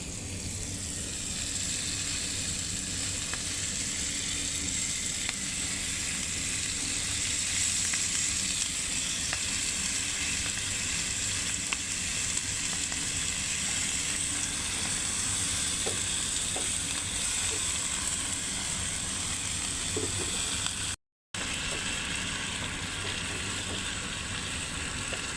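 Whole Malabar spinach (pui shak) sizzles steadily in spiced oil for a chana-style chorchori, a dense, even hiss that holds for the whole stretch with a brief dropout near the end and no talk.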